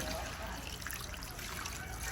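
Water splashes and trickles steadily into a pan of pork with oyster sauce, close by, a continuous wet pouring sound lasting a couple of seconds.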